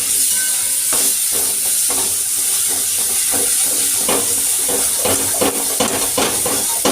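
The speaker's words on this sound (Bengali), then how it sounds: "পেঁয়াজ আর টমাটোটা ভাজছি" Onion and tomato fry in a pan on a home stove, a dense, continuous hiss and sizzle that fills the clip, with occasional soft stirring scrapes and no talking.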